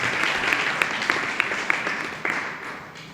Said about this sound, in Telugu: గట్టిగా చప్పట్లు కూడా దేవుడు స్తుతిద్దాం.